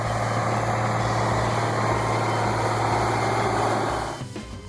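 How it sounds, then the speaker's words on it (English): A classic diesel tractor engine runs at a steady, loud, deep throb with a constant low hum, then cuts off abruptly near the end. "The engine roars in the morning mist."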